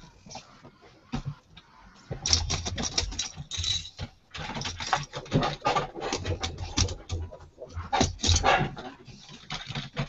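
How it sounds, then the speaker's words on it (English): Several dogs bark and yelp in excited, irregular bursts, loud and close, with rattling clatter mixed in around them. No one speaks. "There's the dogs freaking out."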